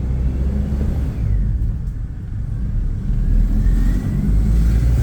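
Carbureted engine of an old Toyota Kijang Krista, heard from inside while being driven, a loud continuous rumble that swells as the throttle opens, no talk.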